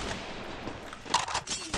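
Gunfire in the Free Fire video game, a handful of sharp shots and short bursts at irregular intervals, fairly close, with faint talk in the background.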